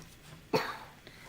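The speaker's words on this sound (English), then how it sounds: "Coughing." A single short cough, sharp and close, breaks a quiet moment and then dies away.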